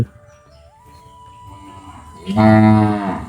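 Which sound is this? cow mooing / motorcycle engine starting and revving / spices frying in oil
cow mooing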